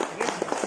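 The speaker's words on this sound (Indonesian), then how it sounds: "Tepuk tangan dulu buat madu hijau" A short burst of hand clapping from a small group, several quick claps in uneven rhythm, close and moderately loud.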